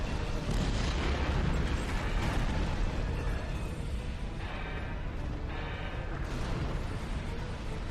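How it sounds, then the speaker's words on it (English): Detonating charges in a chamber in the Star Trek Online game go off as dense, roaring explosions, a heavy sustained blast rumble filling the whole stretch with crackling bursts throughout. "Detonating charges!"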